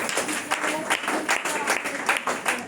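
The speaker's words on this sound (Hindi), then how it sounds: "ताली बजाइए जोर से।" A church congregation at a worship service claps in loud, rhythmic bursts, roughly two to three claps per second, sustained throughout, with voices mixed into the clapping.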